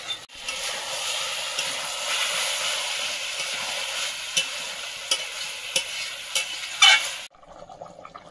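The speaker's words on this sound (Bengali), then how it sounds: "তরকারি তো বিশাল ফুটছে গো।" Curry bubbling and sizzling in a pot over a wood-fired clay stove, a steady close hiss with a few sharp pops near the end before it cuts to quiet.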